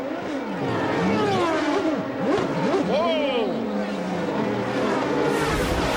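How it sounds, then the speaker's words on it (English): An Indy race car at the 2002 Indianapolis 500 screams out of its pit stop, revving through sweeping pitch changes as other cars pass, loud and close, with an excited voice and commentary over it. "Watch this as he comes out of his pit stop."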